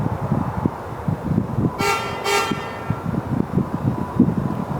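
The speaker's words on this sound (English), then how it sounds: "They're honking their horn at somebody else." A car horn honks twice in quick succession on a street, two short loud toots rising above steady traffic rumble and footsteps outdoors.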